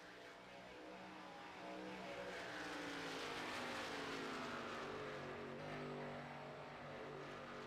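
A race car at an ARCA race roars past, and its engine note drops and sweeps as it downshifts, a continuous loud, distant racing engine drone without talk.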